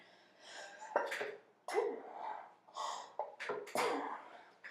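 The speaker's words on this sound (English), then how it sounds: "Excuse me, I had to sneeze." A sharp sneeze bursts out amid a series of gasps, sniffs and heavy breaths, close to the microphone with short pauses between.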